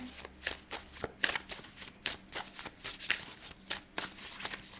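Oracle cards being shuffled by hand at close range, a rapid run of crisp riffling slaps in a steady rhythm, clear and alone without talking.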